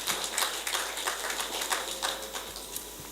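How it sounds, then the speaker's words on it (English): A crowd at a public hearing breaks into sustained applause, dense overlapping claps holding steady throughout, moderately loud and fairly close, with no talking over it. "Can we please welcome him with a very resounding applause?"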